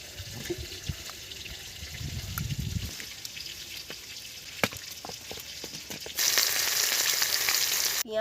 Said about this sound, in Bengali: পেঁয়াজ কালিগুলো ভেজে নেব।